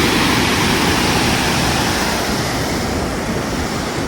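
River water pours over a semicircular stepped weir in a loud, dense, continuous roar, close and steady throughout with no voices.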